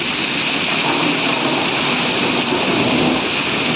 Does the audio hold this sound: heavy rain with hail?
yes